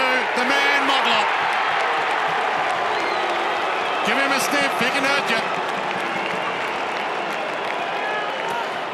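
A football stadium crowd cheers and applauds a goal in a loud, dense, unbroken roar, with a commentator speaking over it throughout.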